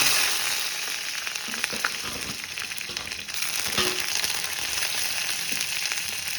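Garlic, curry leaves and mustard seeds fry in hot oil, giving a dense, steady sizzle with crackles and small pops throughout, close and fairly loud, with no voices.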